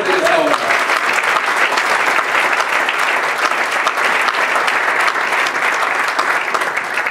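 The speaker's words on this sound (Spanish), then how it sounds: "¿Usted se atreve a dar un aplauso fuerte en esta hora?" A church congregation gives loud, sustained applause during a sermon, dense clapping filling the room evenly throughout, with a brief voice at the very start.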